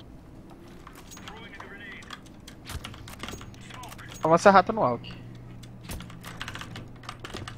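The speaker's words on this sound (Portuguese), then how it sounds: "Tem um teclado altão, é normal?" Loud clacking keys on a computer keyboard during a Counter-Strike match, a short burst of rapid taps rising above ongoing talk and game noise.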